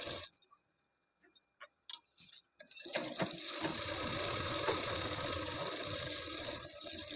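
Close sewing machine stitching a blouse shoulder seam: a few soft clicks and ticks at first, then a continuous steady running whir for the rest, no voices.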